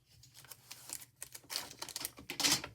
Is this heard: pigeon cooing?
no